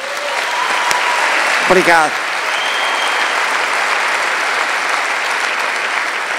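An audience at a Portuguese comedy show applauds in a dense, steady wash of clapping that fills the whole stretch, with someone briefly speaking partway through.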